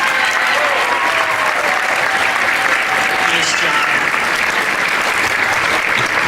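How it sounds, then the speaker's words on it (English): A concert audience gives loud, dense applause for fall beginner band students at a school winter concert, continuous sustained clapping filling the hall, with a brief spoken remark near the start. "Can I have my fall beginners stand up, please? Let's give them another big round of applause"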